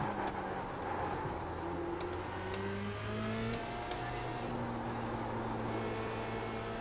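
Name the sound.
race car braking, downshifting and accelerating at Interlagos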